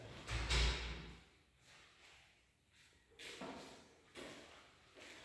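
A door in a house for sale in Kumasi-Ejisu, Ghana, opens with a loud thud and rattle near the start, followed by softer knocks and shuffling handling sounds in a quiet room.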